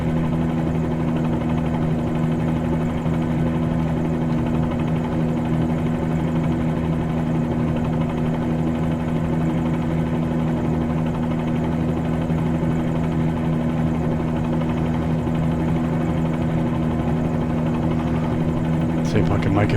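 Helicopter rotor and turbine drone from a flight simulator game, a steady loud whine and hum holding evenly throughout with no break.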